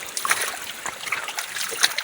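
Mountain water rushes and splashes steadily nearby, a bright, hissing flow like a stream over rocks, with no voices.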